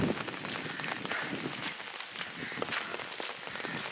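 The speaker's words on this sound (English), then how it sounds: "And obviously it's raining." Steady rain hisses around someone out walking through a humid suburb, with soft, irregular footsteps and scattered drop taps blended into the wash of noise.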